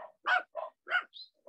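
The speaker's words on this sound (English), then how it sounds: "So Hio will stop barking." A dog barks sharply and close by, four or five quick barks in a steady rhythm with short silent gaps between them.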